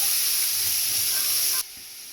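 Celery, carrots and onion sizzle loudly in a hot pan with a steady bright hiss that suddenly drops to a quieter crackle, close up with no talk.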